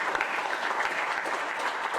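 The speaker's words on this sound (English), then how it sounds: "So, a big clap for Auntie Pani." A gathered audience at a health trust stakeholders' hui claps for an honorary life member, a steady, fairly faint patter of many hands that runs evenly throughout without voices.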